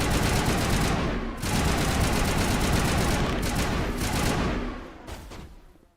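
Geth shotguns fire in a Mass Effect firefight, a loud, dense barrage of overlapping blasts that keeps going almost without a break, briefly dropping out once before fading near the end.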